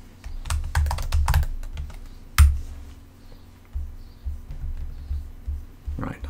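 Typing on a computer keyboard, bursts of close, crisp key clicks with a louder thump partway through, then sparser taps in a quiet room.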